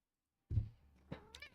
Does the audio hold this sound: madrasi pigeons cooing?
no